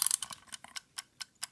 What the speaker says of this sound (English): See, the Pomodoro ticking.